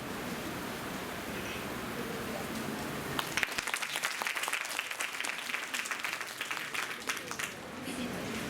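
Loud audience applause from a large crowd at a National Science Day science event, a dense wash of clapping that swells in partway through and continues steadily to the end.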